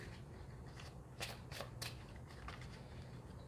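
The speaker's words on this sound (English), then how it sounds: "They shuffle nicely." A deck of oracle cards is shuffled by hand, a soft riffling with three sharp bursts of card flutter close by and fainter rustles before and after, quiet overall.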